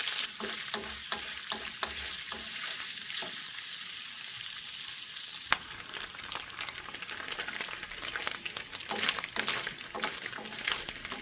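Sausages with ketchup, garlic, paprika and king oyster mushrooms stir-fry in a pan, giving a continuous close sizzle broken by repeated scraping and stirring strokes. A sharp clack comes midway, and no voice is heard.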